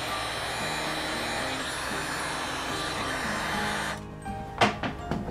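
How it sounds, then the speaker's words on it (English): A heat gun blows steadily with a broadband hum, shrinking heat-shrink tubing over bundled wires during X-Carve CNC assembly; it cuts off near the end, leaving a few light handling clicks. "And then I can use the heat gun to shrink it down."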